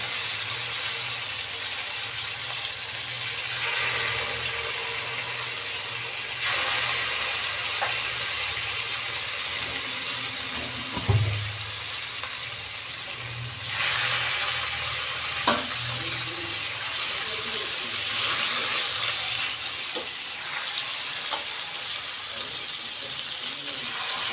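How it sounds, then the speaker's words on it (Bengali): Chicken tikka pieces sizzle loudly in a hot pan over a low gas flame, a steady broadband hiss with surging bursts as more meat goes in and occasional clinks of utensils, no voices. "এই যে গরম হয়ে গেছে, আমি মাংসগুলো দিয়ে দিচ্ছি।"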